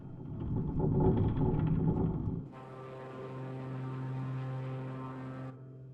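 Propeller aircraft engine in a flight simulator, a steady loud drone that drops abruptly to a lower, smoother hum partway through, then fades slightly at the end.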